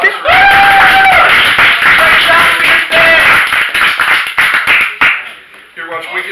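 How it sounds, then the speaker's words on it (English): Loud clapping from an audience at a magic show, short and uneven bursts mixed with tapping and shuffling noise, with a voice talking over it and fading into quieter handling sounds near the end. "Let's give her a round of applause."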